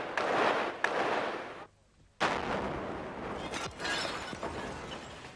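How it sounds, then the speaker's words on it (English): Bursts of gunfire across a city centre during a battle in Bosnia, with vehicles and buildings burning: loud, crackling volleys echo continuously, then cut out briefly before the shooting resumes at a slightly lower level. "fierce exchanges of gunfire across the city centre"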